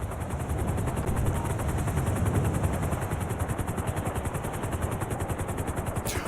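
Helicopter flying in GTA 5 Online, a steady loud rotor chop with a continuous engine whine, holding close and even throughout with no voices.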